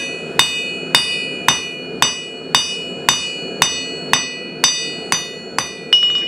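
A hammer pounds the end of a large steel J hook flat, giving about a dozen sharp, ringing metallic strikes at an even, unhurried pace. The blows are close and loud, and no one speaks.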